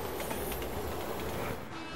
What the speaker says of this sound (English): Look out! Train!